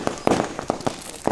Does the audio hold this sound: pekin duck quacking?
no